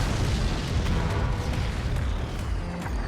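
Mortar shells hit a base in the strategy game Forts, giving a dense, continuous rumble of overlapping booms and bursts that stays loud and close for the whole few seconds, with no voices.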